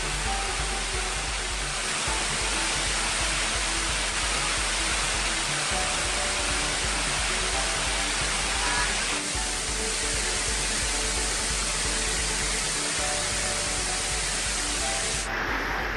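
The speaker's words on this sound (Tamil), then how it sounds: "தொடர் மழையால் வெள்ளி நீர்வீழ்ச்சி, பட்டக்கானல், தேவதை அருவிகளில் தண்ணீர் ஆர்ப்பரித்து கொட்டுகிறது." Water gushing down waterfalls swollen by heavy rain in Kodaikanal, a constant loud roaring rush with no break.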